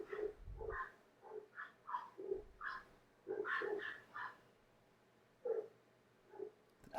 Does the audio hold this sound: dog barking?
yes